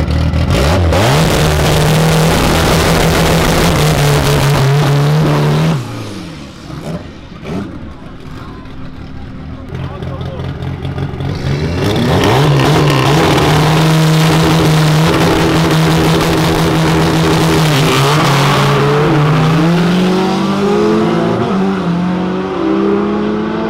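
Car engines in a drag race between a Volkswagen Gol and a Porsche, loud sustained revving with rising and falling pitch as the cars accelerate, a brief lull, then engines surging again, with voices shouting over them.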